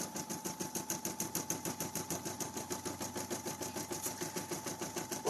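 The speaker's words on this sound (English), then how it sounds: "We can go ahead and do our placement stitch here for this." An embroidery machine stitches a placement outline on felt, a fast, steady rhythmic mechanical chatter of needle strokes, close and continuous with no talking.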